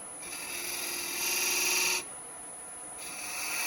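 A 3/8 spindle gouge cutting into a spinning workpiece on a wood lathe, a steady raspy hiss over a constant motor hum, louder for about two seconds and then easing back.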